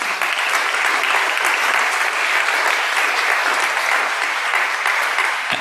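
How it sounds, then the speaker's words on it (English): A lecture audience gives a dense, sustained round of applause for supporters, loud and even throughout with no voices standing out. "I'd like a round of applause for those people that have supported it."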